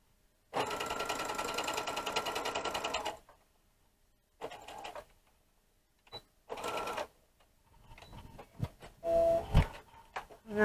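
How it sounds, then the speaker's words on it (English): A sewing machine running a zigzag stitch on a girl's sleeveless dress whirs in a long close burst, then several shorter runs separated by quiet pauses, with a few clicks and taps between. "And then put it on a zigzag stitch."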